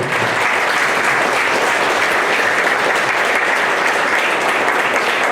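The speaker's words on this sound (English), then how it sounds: "Big round of applause for Bangalore." Audience applause at an Indian startup leadership event, a dense, steady wash of clapping from a large crowd that holds evenly for several seconds without voices over it.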